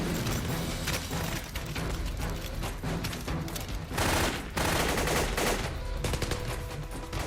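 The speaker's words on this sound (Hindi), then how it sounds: "हे, गोली चलाना बंद करो।" Continuous heavy gunfire in an action film, with rapid volleys and bursts, loud and close, running throughout with brief surges of louder shots.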